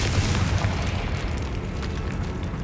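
A Confringo blasting spell explodes in the Hogwarts Legacy video game, producing a loud, sustained booming roar that fills the whole moment at steady strength with no talk over it.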